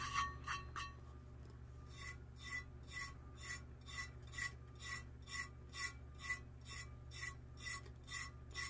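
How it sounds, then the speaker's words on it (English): Excess coating is rubbed off a surface and then tapped down flat with a soft tool, heard as a steady series of rhythmic, close, dry rasping strokes, each a short scratchy burst, repeating about twice a second over a low background hum. "We're just going to rub the extra off and then tap it down to where it's nice and flat"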